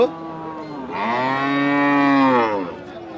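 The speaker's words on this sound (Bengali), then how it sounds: "চণ্ডীপুরা বাজারে হাজার হাজার গরু আছে" A cow moos at a crowded cattle market in Chandimura, Comilla, one long, loud, drawn-out call that rises and holds before fading, heard close and clear.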